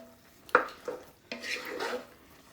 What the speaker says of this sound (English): Stir that in to cook those vegetables and to finish cooking that rice.